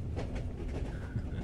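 Steampunk train ride ambience: a steady low rumble of rolling carriages with faint rhythmic clatter, constant and fairly quiet, with no voices.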